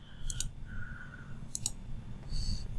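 Computer mouse clicking, three short sharp clicks spaced about a second apart, close and crisp over quiet room noise.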